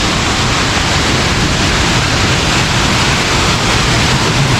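Thooval waterfall in Idukki pouring down into a deep pool, a loud, dense, unbroken roar of falling water that fills everything, with no voices.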